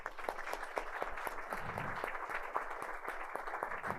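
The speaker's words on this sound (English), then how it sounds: "They deserve a round of applause." Scattered, faint applause from a small audience at a town event, individual claps standing out in an uneven rhythm.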